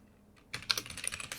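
Rapid keystrokes on a computer keyboard, entering a prompt; after a brief quiet start, a steady close run of clicky taps fills the rest.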